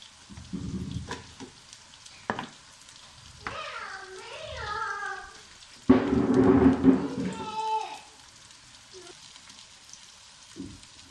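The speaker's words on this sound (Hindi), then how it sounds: "बैंगन फ्राई हो चुके हैं, अब इसको भी निकाल लेते हैं।" Sliced eggplant (brinjal) fries in oil in a pan, a steady sizzle that swells loudly midway as pieces are stirred, while someone talks over it and a voice comes through briefly.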